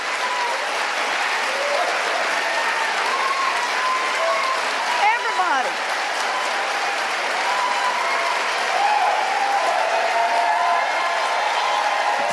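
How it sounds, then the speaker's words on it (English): Sustained applause from a large crowd, steady and dense for the whole stretch, with some voices murmuring underneath. "they kept clapping for a while"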